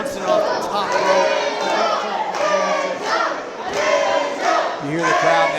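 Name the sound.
wrestling crowd cheering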